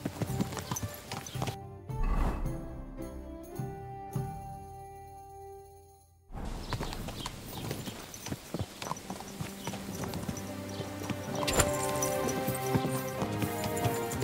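Video game horse: hooves clip-clop steadily alongside a whinny, with busy ambient noise and a brief quiet lull before the trotting resumes.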